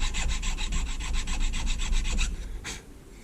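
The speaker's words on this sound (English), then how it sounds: "now you can take yourself a chainsaw file and come up in here and kind of clean those up." A chainsaw file rasps across wood, cleaning up the edges of a homemade Dremel router table part: about fifteen quick, evenly spaced scraping strokes close to the mic, ending in a pause and one last stroke.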